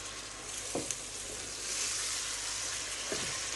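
Chopped tomatoes sizzle and fry in a spinach curry masala, a steady crackling hiss with a few soft stirring scrapes, fairly quiet and close, with no talking.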